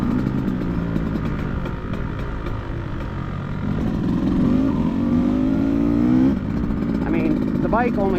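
A 2024 Beta Xtrainer dirt bike engine runs and revs, its pitch climbing and dropping several times, with a person talking over the engine noise.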